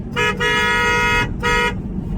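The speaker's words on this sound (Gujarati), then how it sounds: "હોર્ન ફિટ થઈ ગયું છે અને હોર્ન વાગે છે કાંઈ મસ્ત જોવા" A newly fitted car horn blasts loud and close, giving one short toot followed by a long honk and then another shorter honk.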